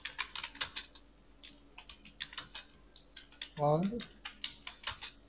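Someone types an email on a computer keyboard, a steady run of close, crisp key clicks in bursts with short pauses, and a voice briefly speaks midway through.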